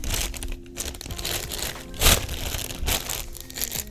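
Plastic piping bag filled with choux paste twisted and handled, giving close, irregular crinkling and crumpling bursts with a louder rustle midway.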